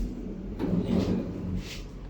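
A wooden cabinet drawer slides open or shut during a cabinet-building project, a soft rolling rumble over about a second with a light knock, close by and without talk.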